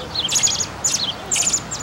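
A robin chirps in a park, three or four bright, high, quick bursts of tweeting at fairly close range with short gaps between them.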